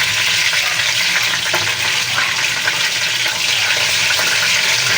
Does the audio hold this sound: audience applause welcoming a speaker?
no